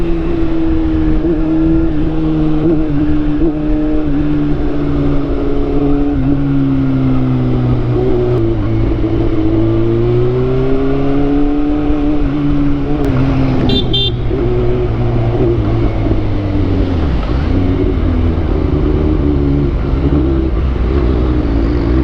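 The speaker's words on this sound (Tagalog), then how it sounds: "Hinay-hinay muna ang ating pagpapatakbo ng ating motor ngayon" A motorcycle rides slowly along a road, its engine droning steadily with shifting pitch as the throttle changes and a brief higher-pitched sound near the middle, with no talking.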